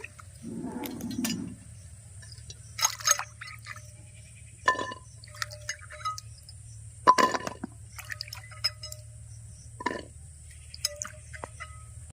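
Washed ivy gourds lifted out of a bowl of water in a kitchen: scattered splashes and drips, a brief slosh at the start, then sparse separate water drops and light clinks over a quiet hum.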